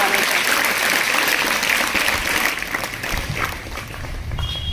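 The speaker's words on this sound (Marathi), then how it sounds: "विद्यार्थ्यांनी जोरदार टाळ्या वाजवून सरांचे आभार मानते" Students at a junior college event applaud loudly to thank a speaker, a dense, continuous clapping that fills the room and eases slightly toward the end.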